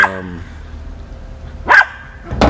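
A dog barks twice in short, sharp bursts, close and loud, with a voice speaking just before the barks.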